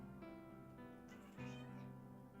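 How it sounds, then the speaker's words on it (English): A sick male cat meows indoors at night, a drawn-out tonal cry with a rising, brighter burst partway through, close and fairly clear over a steady low hum. "he's meowing at me now"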